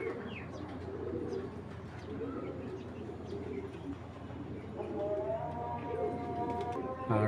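A racing pigeon coos in soft, repeated low murmurs close by, while a person talks quietly over the calls and a brief higher tonal sound appears near the end.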